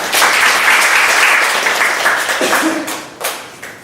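Loud, close audience applause at a coworking demo day, strong at first and gradually tapering off with a few scattered final claps and a brief murmur toward the end.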